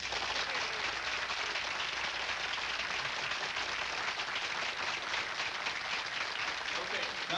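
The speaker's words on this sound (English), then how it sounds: "All right, let's do this by applause." A television studio audience applauds in a sustained, dense wash of clapping that holds steady at full volume from start to finish, with no pauses or voices breaking through.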